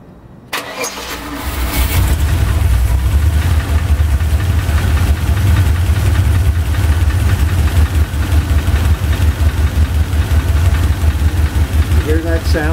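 A car engine on a bench after a driver's-side valve lash adjustment cranks, catches and settles into a loud, steady idle with a deep, close rumble that continues throughout.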